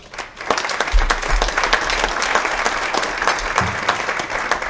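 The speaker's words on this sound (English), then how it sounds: "So again, we'll give Gary a round of applause." A crowd at a high school hall of fame induction ceremony breaks into loud, close applause, dense clapping that holds steady for several seconds.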